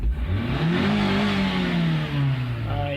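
A 2002 Nissan X-Trail engine with a low-power fault revs high and holds steady near its limit, a loud, close, continuous mid-pitched whine with rising and falling harmonics and no voices.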